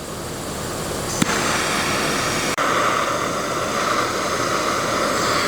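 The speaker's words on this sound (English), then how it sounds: "I got the compressor going." A loud, steady mechanical roar of an air compressor in a workshop with a broad hiss runs throughout, broken by a sharp click partway and a brief dip, with no talking.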